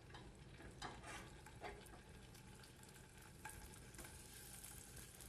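Scallops sizzle in very hot olive oil in a pan, a faint, steady frying crackle with a few brighter pops, with no voices.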